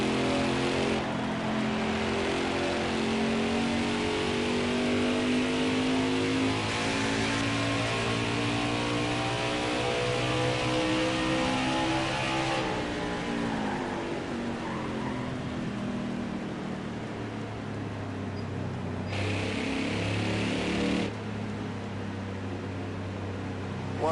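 NASCAR Truck Series race trucks roar around the Gateway track, a loud continuous engine drone with rising and falling pitch as trucks pass, steady throughout with no talk.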